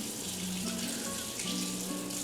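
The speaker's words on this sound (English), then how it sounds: "Make sure you rinse your eggs off well so that you don't have an errant piece of shell hanging around." Tap water runs steadily over boiled eggs being rinsed at a kitchen sink while making potato salad, a continuous close gush with no talking.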